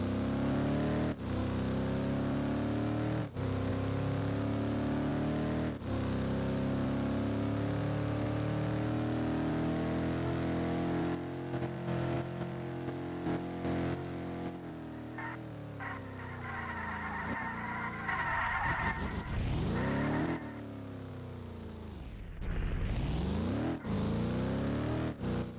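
Simulated car engine from the Roblox ERLC game near a frozen river and lake, a steady droning hum lasting throughout with periodic clicks and rising and falling revs near the end, no talk.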